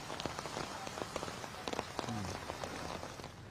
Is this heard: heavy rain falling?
yes